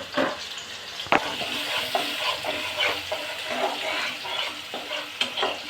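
Pieces of koi fish fry with spice paste in a pan, a steady close sizzle with scraping stirring strokes and one sharp knock early on.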